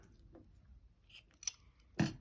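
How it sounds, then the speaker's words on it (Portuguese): Scissors snip through crochet yarn at the end of a small Easter bunny coaster, a couple of faint clicks followed by one sharper, louder cut close to the microphone in a quiet room. "Vamos cortar o fio."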